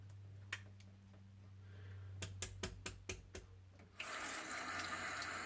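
A kitchen faucet is opened to rinse a cleaned faucet screen. Several sharp ticks and knocks of handling come first over a low hum, then water gushes steadily and loudly into the sink.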